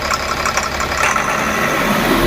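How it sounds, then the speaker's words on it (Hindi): A Tata BS4 truck engine runs steadily and loudly close up, with a rough, dirty tone and possible knocking under load. No one speaks. "रेस पूरी ले रही है मगर धुआं दे रही है गाड़ी और आवाज़ बहुत गंदा कर रही है।"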